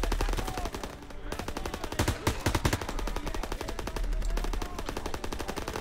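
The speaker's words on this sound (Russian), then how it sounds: "Не вижу, откуда стреляют." Rapid bursts of gunfire in the World War II shooter game Call of Duty: WWII, steady machine-gun rattle running through most of the stretch with no voice on top.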